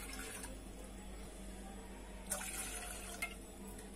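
Water poured into a pan on a gas stove for semolina halwa, a faint steady liquid stream in a home kitchen with a couple of brief sharper splashes near the end.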